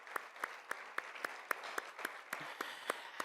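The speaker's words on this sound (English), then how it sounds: "join me in giving the entire NALEO staff a round of applause for their hard work" Applause at a Latino leadership luncheon is led by one close, sharp pair of hands clapping in a steady rhythm over softer, more distant clapping from the crowd.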